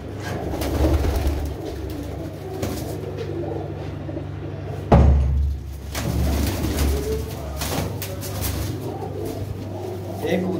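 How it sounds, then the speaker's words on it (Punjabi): Close pigeons coo in repeated throaty phrases under people talking, with one sharp knock partway through and a steady low hum beneath. "ਕਾਫੀ ਕਬੂਤਰ ਨੇ ਬਾਈ ਉਹਨਾਂ ਦੇ ਕੋਲ, ਅੱਜ ਕਰੋ ਇਹਨਾਂ ਕਬੂਤਰਾਂ ਦਾ ਸ਼ੌਂਕ।"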